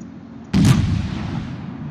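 Naval ship guns fire high-explosive shells at the Bismarck in World of Warships, one sudden loud boom after a quiet start, trailing into a rumbling decay.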